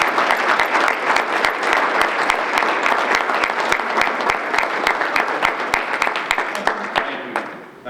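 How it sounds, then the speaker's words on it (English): An audience at a city's State of the City address breaks into sustained applause, dense and steady clapping from many hands that carries on for several seconds before tapering off near the end. "I want to give these people a round of applause."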